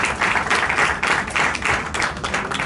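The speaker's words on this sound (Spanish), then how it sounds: "Un aplauso." Audience at an award ceremony in a Madrid casino hall breaks into steady, dense applause, many hands clapping continuously at moderate loudness without talk.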